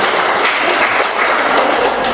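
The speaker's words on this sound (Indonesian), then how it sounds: "Kita berikan tepuk tangan buat kita semua." An audience at a community gathering applauds loudly, a dense and continuous wash of clapping with no voices over it.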